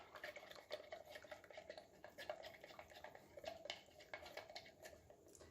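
Melted soap base is stirred in a container for a melt-and-pour soap, giving faint, rapid scraping and ticking taps at a fairly even pace, quiet and close, with no talking.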